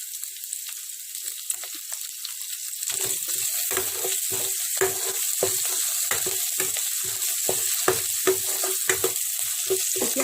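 Chilies and turmeric frying in hot oil, a steady close sizzle that swells partway through, broken by repeated stirring scrapes and pops.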